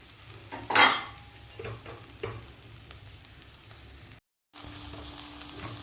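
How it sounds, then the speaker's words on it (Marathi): A spoon scrapes and stirs through a pot of lentils and rice being sautéed for khichdi, with soft sizzling underneath, punctuated by one sharp metallic clink near the start. "व्यवस्थित परतून झालेले आहेत डाळ आणि तांदूळ"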